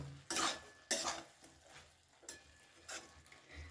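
Potatoes, peas and green chilies are stirred in a pan for a cabbage and fish-head dish. Distinct scraping strokes of a utensil against the pan come in a few loud bursts with quieter pauses between them, and no one speaks.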